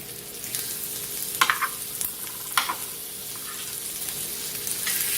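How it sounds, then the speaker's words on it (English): Pork chops sear in a hot skillet on medium heat with a constant close sizzle, punctuated by two sharp bursts of spitting and scraping as the meat is laid down, and the sizzle swells at the end. "Put your pork chops into the skillet."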